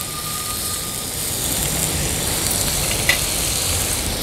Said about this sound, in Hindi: कांदा ॲड केला का थोडासा तेलावर परतून घ्यायचा आहे आपल्याला